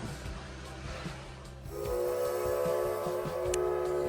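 A Sugar Pine Railroad steam locomotive stands ready to pull its train, with a steady hiss of steam and a sustained whistle-like tone rising partway through, heard at moderate distance with no speech.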